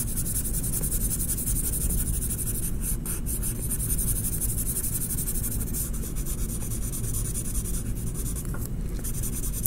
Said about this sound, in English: I'm going to color donkey gray